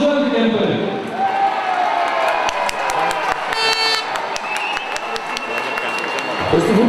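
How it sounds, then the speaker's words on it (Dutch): Stadium crowd applauding and cheering youth football teams of the Zuidkempen clubs at a KVC Westerlo home match, a broad continuous wash of clapping with sharp transient hits and a brief horn-like toot, steady and loud throughout. "Geef ze een hartelijk applaus, de jeugd van de Zuidkempen"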